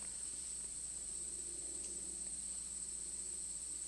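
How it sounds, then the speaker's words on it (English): Crickets chirp in a steady high-pitched trill, constant and fairly faint, over a quiet background hum during a gathering, with no one talking. "wanting to hear those crickets perfectly"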